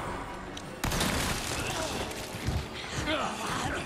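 Shotgun blast in the Resident Evil 4 video game, a loud sudden boom about a second in followed by dense clattering game action and further impacts, with someone talking over it.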